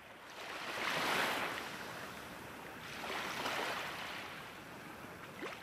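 Ocean waves roll onto a quiet seaside shore in two slow, broad surges of hissing surf, steady and moderately loud with a soft wash between them and no voices.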